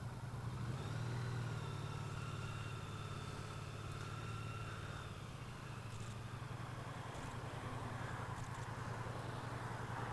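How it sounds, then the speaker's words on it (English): A new Triumph Street Cup motorcycle being ridden during break-in, held under 4,000 RPM: its engine gives a steady, even drone with little change in pitch, mixed with road and wind noise, and no one speaks. "Today I'm on my new Triumph Street Cup."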